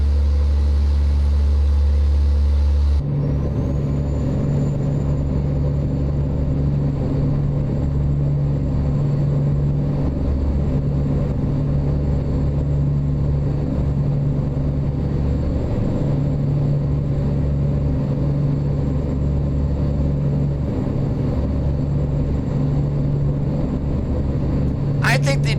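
An International LoneStar semi truck in American Truck Simulator rumbles with a deep, steady engine drone, heavy low-end throb holding constant after a brief louder opening, ending with a short sharp burst.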